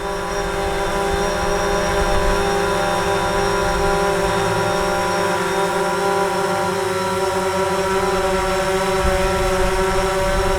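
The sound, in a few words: DJI Phantom 4 drone hovering while attempting landing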